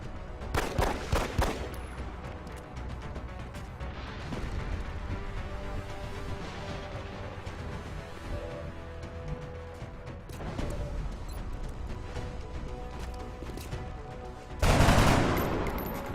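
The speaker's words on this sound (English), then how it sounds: "Shotgun pistol." Shotgun pistol blasts in the tactical game XCOM: Long War, loud sharp bursts near the start and again near the end, with game sounds and rumble in between.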